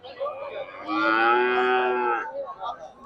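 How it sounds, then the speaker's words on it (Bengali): At a rural cattle market, a single long, loud cow moo rises and holds for over a second, with fainter lowing from many cattle and crowd murmur around it. "যতদূর চোখ যায় খালি গরু আর গরু।"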